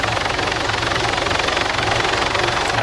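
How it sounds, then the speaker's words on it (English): A Pawnee attack helicopter flies in the Arma 3 video game, its loud, steady rotor chop and turbine whine filling the whole stretch without a break. "it acts like a Pawnee, which is an attack helicopter"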